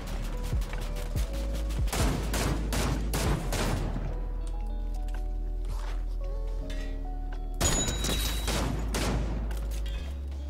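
Fortnite gunfire in a match, with rapid bursts of automatic shots clustered in the first few seconds and again near the end, loud and close, separated by quieter in-game effects.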